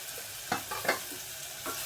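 Turmeric frying in oil, a soft close sizzle with a few stirring scrapes over under two seconds, quiet, with no voices.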